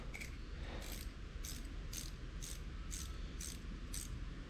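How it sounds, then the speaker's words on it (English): Small ratchet spanner turning a bolt while fitting panniers on a 2009 Harley-Davidson Fat Bob, a series of about eight crisp, evenly spaced clicks close up over a low background hum, no talking. "So I use my little ratchet spanner"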